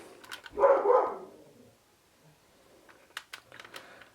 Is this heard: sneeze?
no